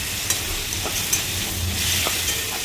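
Onions and ground spices fry lightly in a pan, giving a soft continuous sizzle with a few faint stirring taps.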